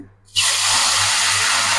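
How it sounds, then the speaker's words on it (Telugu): Water is poured into a pan of roasting semolina and coconut. After a quiet moment it bursts into a loud, close, steady hissing sizzle that continues to the end. "ఇప్పుడు దాంట్లోకి మనం కొద్దిగా వాటర్ యాడ్ చేసుకోవాలండి"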